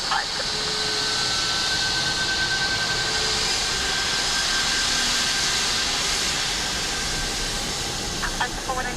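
A jet airliner landing on runway 28 left at Dublin Airport gives a steady, loud broadband roar that holds through the whole stretch, with a faint tonal whine on top and brief sharper bursts near the end.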